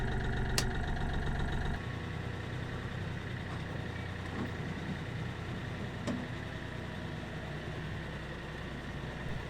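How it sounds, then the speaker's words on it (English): A Kioti NX5510 hydrostatic four-wheel-drive tractor with a turbocharged 55 horsepower Daedong diesel idles steadily up close, a low even drone with a brief sharp click early on. "This is my Kioti NX5510 hydrostatic four-wheel drive tractor."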